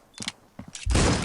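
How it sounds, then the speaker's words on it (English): DMR rifle shots in a tactical shooter video game clan match: a couple of sharp separate cracks, then a louder, sustained burst of fire near the end, close and prominent with no talk over it. "Shot from the back. Gear takes him down on DMR"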